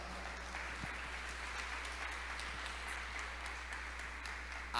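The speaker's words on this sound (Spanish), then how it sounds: "Démosle un aplauso al Señor por la palabra." A church congregation applauds at a Spanish-language service, steady dense clapping heard from a distance and fairly faint over a low constant hum, with no voices over it.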